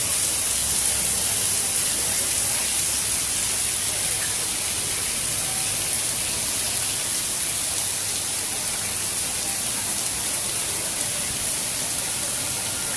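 A heavy downpour in a flooding city pours down as a constant, dense hiss of rain hitting surfaces, loud and unbroken throughout, with no voices.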